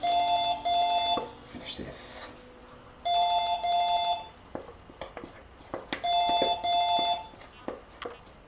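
A telephone rings in a home kitchen in three separate bursts of rapid electronic trilling, fairly loud and close, with people talking and moving around between and over the rings.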